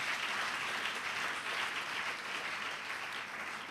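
A church congregation applauds and cheers in praise during a prophetic worship service, a dense, steady wash of many hands clapping that holds at a fairly even level throughout, with no speech over it.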